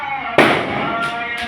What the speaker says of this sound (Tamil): பட்டாசு சாமி கோயிலில் வெடிக்கிறாங்க.